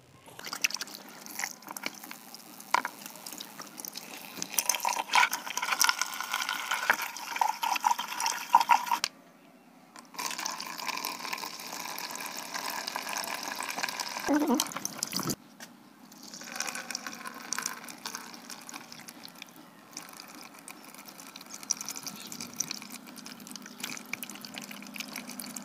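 Clean water is run and splashed over material being washed during gold recovery from cellphone circuit parts, a steady close pouring and sloshing with brief pauses and no talking.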